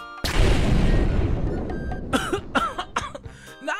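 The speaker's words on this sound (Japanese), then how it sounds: "何この爆発" A plastic bomb explosion in an animated comedy: one loud sudden boom that rolls off into rumbling debris, followed by a scatter of short clattering hits and pops.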